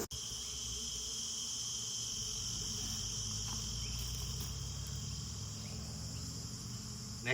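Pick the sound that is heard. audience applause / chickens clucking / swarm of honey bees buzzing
swarm of honey bees buzzing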